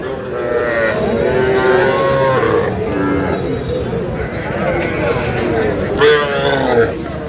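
A bull calf moos repeatedly at a busy cattle market, loud close calls rising over the chatter of people talking nearby.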